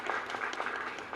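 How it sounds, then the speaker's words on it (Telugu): Dense applause from an audience at a Brahmin community welfare gathering, steady broadband patter of many hands throughout, loud and continuous with no speech. "గట్టిగా చప్పట్లు కొట్టండి అమ్మ"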